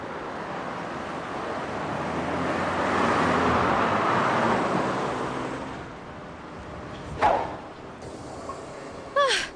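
Road traffic with cars passing, a broad rushing swell that builds and fades, followed by a couple of short sharp sounds near the end, fairly faint.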